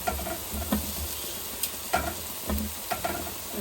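Cauliflower stir-fried in a pan before rui fish is added to the curry: a close, moderate sizzle broken by repeated spatula scrapes and clacks against the pan at an uneven pace.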